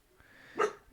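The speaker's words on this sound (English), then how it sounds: "Sam, don't bark." A dog barks once, loud and close, in an indoor home setting, a single sharp bark standing out above quiet room noise.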